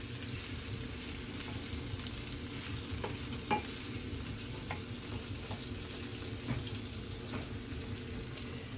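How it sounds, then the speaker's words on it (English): Onion sautés in a pan, giving a constant low sizzle with occasional light taps and scrapes of a utensil stirring, heard up close without any talking. "take an onion and a half, and saute it"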